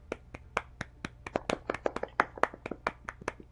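A person slaps their thighs together to imitate a round of clapping: a quick, uneven run of about twenty sharp slaps, close and crisp, with no voices.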